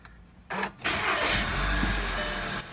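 An Audi Q3 engine, just reassembled after carbon cleaning with new seals, cranks briefly, then catches and settles into a steady, moderately loud idle nearby.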